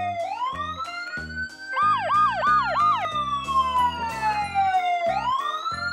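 A toy fire truck's wailing emergency siren sweeps up and down, with a faster yelping stretch in the middle, loud and close over a rhythmic musical backing.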